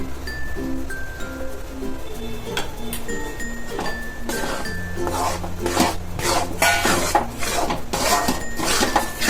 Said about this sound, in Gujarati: આવી રીતે ખૂબ સરસ રીતે ચલાવી લેવાનું એટલે ગોળ મિક્સ થઈ જાય